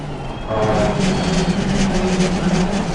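Race car engine in Assetto Corsa Competizione at Silverstone, a continuous droning roar that swells after a brief lull and holds steady at full throttle, heard alone without talk.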